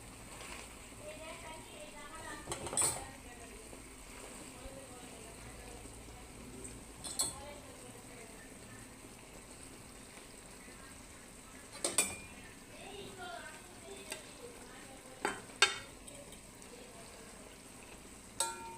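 Jute leaves and small tengra fish are stirred in a pan with soft sizzling underneath, scattered metallic clinks and scrapes of a utensil standing out, while a voice talks at times.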